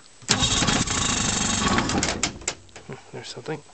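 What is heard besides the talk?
1957 Evinrude 18HP outboard motor starting and running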